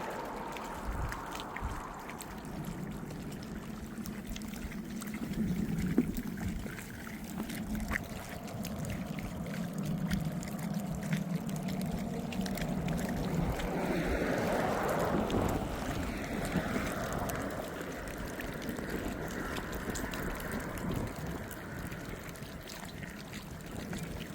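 Ice breaking up on the Hudson River in front of a riverside house, heard as a steady, continuous wash of grinding, sloshing water with wind buffeting the microphone throughout.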